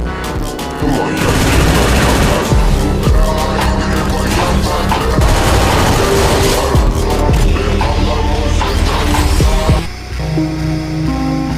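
Gunfire in the video game Free Fire, dense loud bursts of rapid shots and booms layered over game sound for about ten seconds, then cutting off to a quieter tone.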